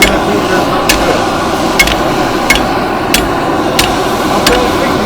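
Hammer blows forging hot metal at an audience blacksmith competition, about seven sharp metallic strikes at a steady pace over a noisy outdoor crowd background.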